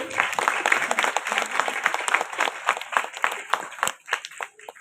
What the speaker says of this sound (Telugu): ఇప్పటి వరకు స్కిట్ చేసిన తల్లులందరికీ గట్టిగా చప్పట్లు కొడతామండి